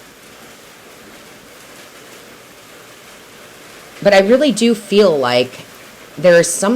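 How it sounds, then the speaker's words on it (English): Steady rain falls outside an open door, a constant broadband hiss filling the first four seconds alone, then continuing as a quieter bed beneath a voice. "Sorry about the noise. It's raining, but I love to keep my doors open."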